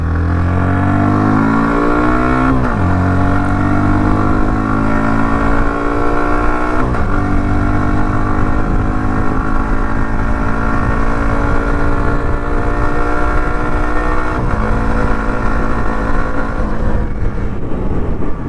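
A Hero Xtreme 125R motorcycle being ridden, its engine droning steadily with rising pitch through the revs and several clear gear shifts, loud and close from the rider's position, without talking.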